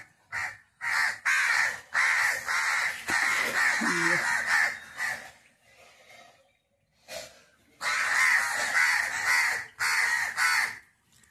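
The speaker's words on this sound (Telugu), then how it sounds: "కాకులు చక్కగా అరుతున్నాయి పక్షులన్నీ కూడా." Crows caw loudly outdoors beside a jamun fruit tree, in harsh repeated bursts that come in clustered runs with short quiet breaks between them.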